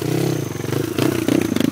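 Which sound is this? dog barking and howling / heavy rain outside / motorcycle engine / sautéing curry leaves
motorcycle engine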